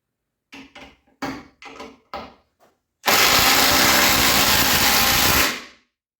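A cordless impact driver driving a screw sounds in a few short trigger blips, then runs loud and continuously for about two and a half seconds before winding down, close up, with no speech.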